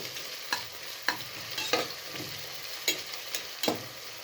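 Onions frying in oil in a pan for chicken biryani, cooked until golden: a steady close sizzle with sharp spatula scrapes and stirs breaking through about every half second to a second, no talking.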